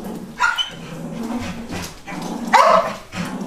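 A second dog barks in the background during indoor play, giving two loud, separated barks with whimpery yips in between.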